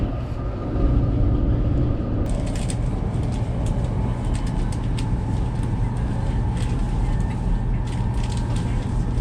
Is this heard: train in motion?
yes